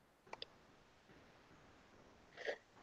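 A quiet room with two short, faint sounds: a small burst near the start and a brief sneeze-like puff toward the end.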